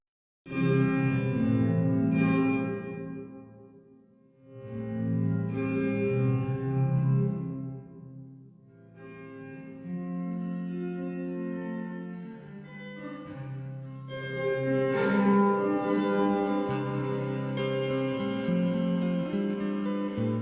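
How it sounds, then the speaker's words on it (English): Sustained guitar chords ring out with medium and long reverb blended, a lush, lingering tail, phrases swelling and fading into one another in a spacious wash with no voices. "use the medium length reverb in with the long reverb"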